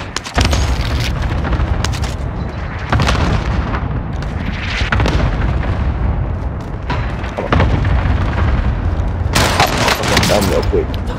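Cluster strike bombardment in a shooter video game, a dense barrage of heavy booms and rolling gunfire blasts filling the scene, loud and sustained with a sharp burst near the end, with players talking over it.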